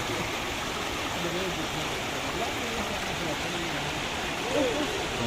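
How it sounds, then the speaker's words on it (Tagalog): Strong floodwater current rushes across a road after rain, a steady, dense roar that stays close and constant throughout, with faint voices mixed in under it. "Ang lakas ng agos."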